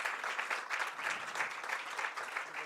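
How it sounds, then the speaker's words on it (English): A concert audience gives a khanjira player another round of applause, a continuous even wash of clapping heard at a moderate distance, with no voices over it. "So can we give him another round of applause"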